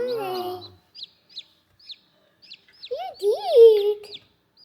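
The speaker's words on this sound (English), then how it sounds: "It's a baby chicken." A small yellow baby chick gives a string of short, high peeps spaced apart, close and fairly clear, with people talking over the start and again near the end.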